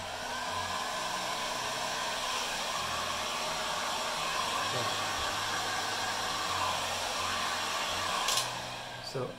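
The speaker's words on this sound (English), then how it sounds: "So now I'm gonna use my heat gun." A heat gun blows steadily over a resin tray, giving a constant close airy whoosh with no break; a brief clatter comes near the end as the stream cuts off.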